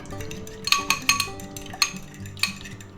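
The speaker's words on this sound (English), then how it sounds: "And we're going to beat that up." Egg mixture thinned with a little water being beaten in a bowl for chicken-fried frozen eggs, with a steady stirring swish broken by several sharp clinks of utensil against the bowl, close and moderately loud.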